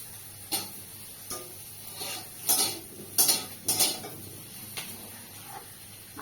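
A metal utensil scrapes and taps in a pan as fried potatoes are pushed aside beside paneer. About eight sharp clinks are spaced unevenly over a quiet background hiss, with no voices.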